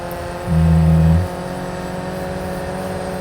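Race car engines drone in Real Racing 3 during a rolling start of a 10-car Daytona Cup grid with Alfa Romeo C4 cars. A low engine hum swells briefly near the start, then settles into a steady, softer drone with no talk.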